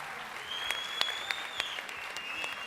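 Studio audience applause on a televised singing competition, a soft, distant patter of clapping with a few sharper claps standing out and a thin sustained tone running through it.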